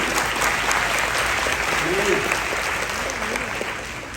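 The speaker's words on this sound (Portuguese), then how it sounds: "uma salva de palmas para Jesus aí" A church congregation applauds for Jesus during a sermon on the second coming: steady, dense clapping that fills the whole stretch, with a faint voice rising briefly over it.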